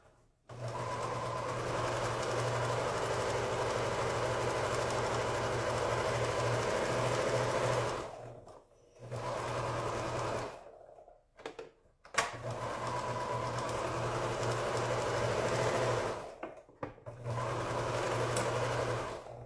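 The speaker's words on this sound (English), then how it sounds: "So I'm going to sew these together. Just that last seam." A sewing machine runs steadily, stitching the last seam joining quilt pieces, loud and continuous with a few brief pauses and restarts.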